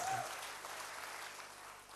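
Applause from a church congregation, a steady wash of many hands clapping that fades slightly over two seconds.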